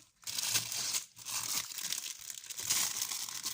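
Plastic wrapping around a package of paints is crinkled and torn open up close, with bursts of crackling and rustling broken by brief pauses.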